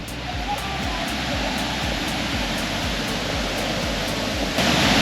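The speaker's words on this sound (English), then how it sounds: "So this is considered the widest waterfall here in West Virginia." Steady, broad roar of the widest waterfall in West Virginia, a dense continuous rush of falling water heard close and loud throughout, with no voices over it.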